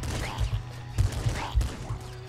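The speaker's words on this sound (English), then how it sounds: "Oh fuck, someone else has a shotgun." Shotgun blasts in Nuclear Throne: three sharp, punchy shots spaced about half a second apart, each with a brief crackling tail, loud and close amid game effects.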